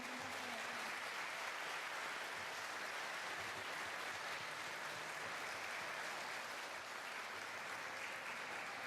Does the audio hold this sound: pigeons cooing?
no